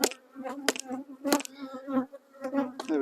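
Honeybees buzz as they lift off a Ross round section honey frame after it is tapped, with scattered close wingbeat hums broken by several sharp knocks and rustles.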